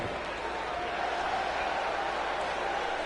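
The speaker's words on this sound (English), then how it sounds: "And there's the crowd again." Wrestling arena crowd at an NXT event, a steady broad roar of many voices with a faint chant-like tone rising through the middle, continuous and fairly loud throughout.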